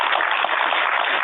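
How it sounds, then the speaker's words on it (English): An audience at a leadership council meeting applauds a speaker, giving a brief, steady burst of clapping heard alone and band-limited, as if over a phone or video link. "could you join me in a round of applause for Mike Heinmark"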